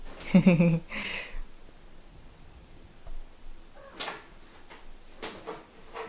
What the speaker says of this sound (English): I just want to show you my kitty Henry.